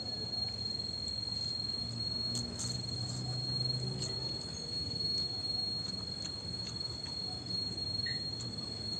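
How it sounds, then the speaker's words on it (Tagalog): Crickets chirp steadily through a late-afternoon outdoor setting after rain, a continuous high, even insect drone that stays moderately loud with no speech over it. "Ayun ngayon ang kuliglig."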